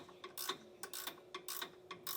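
A ratchet tightens a bolt on a SumoSprings helper spring installation, several quick clicking strokes in repeated bursts with short pauses, close and quiet.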